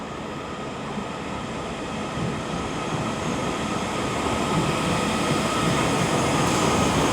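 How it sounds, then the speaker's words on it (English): A Northern class 331 electric train, 331107, pulls out of Liverpool Lime Street with its traction motors and wheels building into a steady, growing rumble and hum, fairly close. "getting ready to start is going to be 331107 with the 1539 Northern service to Blackpool North"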